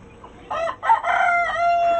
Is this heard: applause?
no